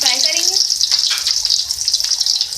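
Chopped onion frying in four to five tablespoons of hot ghee, a loud, steady sizzle and crackle throughout, close up, with a brief voice at the start.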